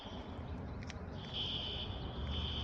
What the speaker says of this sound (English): Someone just pulled the fire alarm.